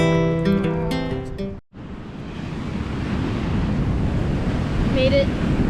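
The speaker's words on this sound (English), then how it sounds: "Made it to the beach. It is very beautiful here. Ah, it's like a little cove." Surf rolls and washes steadily onto the sand of a small beach cove, a continuous broad rush with wind buffeting the microphone; a brief voice sounds at the start before the waves take over.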